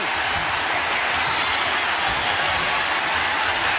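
An arena crowd at a fight roars after a knockout, a broad, dense wash of cheering and applause holding steady and loud throughout, with no single voice standing out.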